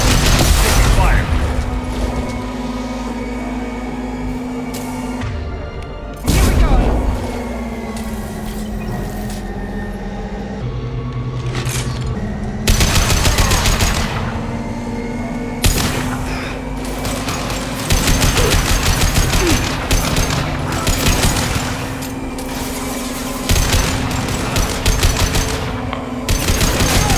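Gunfire in the video game Mass Effect Legendary Edition: loud, repeated automatic bursts and booming shots in clusters across a long firefight, with voices talking between volleys.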